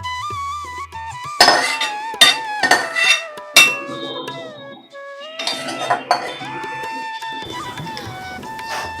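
Metal utensils clink and scrape against a pan and dishes as cooked okra with fish roe is served, a series of sharp bright clatters with brief pauses, close by and with no talk.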